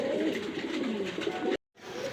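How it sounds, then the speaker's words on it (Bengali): Pigeons coo in a continuous low, throaty murmur, close and steady. A brief moment of silence breaks the sound before the cooing resumes. "বন্ধুরা এখানে আরেক জোড়া কবুতর আছে"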